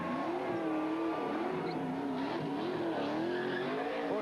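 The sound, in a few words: Dodge race car doing victory donuts, tire squeal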